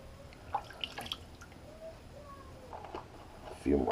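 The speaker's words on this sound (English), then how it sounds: "Drop some water in there." Water drops fall into a bowl of Tabac shaving soap with a few soft, scattered drips, followed by a brief wet squishing from the brush. All of it is quiet and close.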